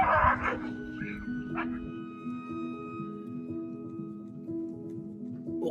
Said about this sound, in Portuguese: O cão ia atacar a criança lá